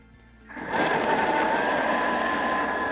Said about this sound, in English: this is a hybrid of a food processor and a Vitamix